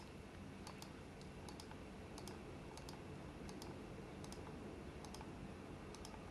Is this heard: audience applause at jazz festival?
no